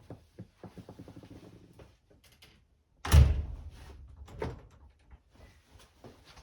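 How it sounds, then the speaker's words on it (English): Door opening in a workshop, blown by the wind: a sudden heavy thunk and rattle after some quieter knocking, followed by a smaller bump and faint clatter. "Who's opening my door?"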